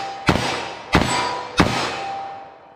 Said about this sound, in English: 357 Mag, I'm just gonna get a sight picture, pop them off, see how they feel for controllability.